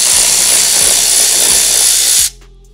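A power tool removes 10 millimeter bolts from an engine cover during oil pump and timing belt work on a 2000 car, a loud steady hissing whir with faint rhythmic ratcheting that stops abruptly near the end.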